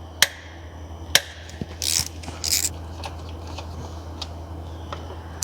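A ratchet works on the belt tensioner of a BMW N62 V8, giving a few sharp separate clicks and then two short ratcheting bursts in a quiet engine bay.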